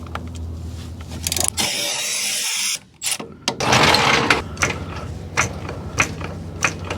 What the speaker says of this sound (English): now we're gonna take out this top bolt right here that attaches it to the upper ball joint